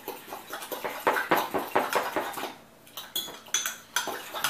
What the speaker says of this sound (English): You want to make sure the eggs are really, really whisked well.